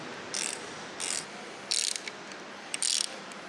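A hand ratchet clicks through quick bursts while working on an Audi S3 2.0 TFSI engine build, four short loud rattling runs separated by pauses.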